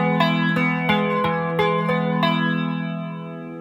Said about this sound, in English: Very nice flanger.